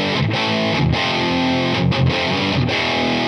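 A cheap electric metal guitar plays through its pickups with heavy distortion, loud sustained chords with brief gaps between strums, thick and saturated throughout.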